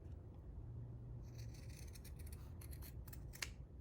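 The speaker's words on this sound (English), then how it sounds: "shears to cut right across and take some of the bulk off without cutting into my thread" Fabric shears snipping across the seam of a fitted fabric face mask, a cluster of quick crisp cuts in the second half over a low steady background hum, quiet and close.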